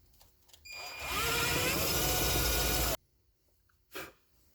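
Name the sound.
power drill drilling a hole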